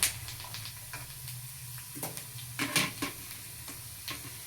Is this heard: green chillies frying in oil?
yes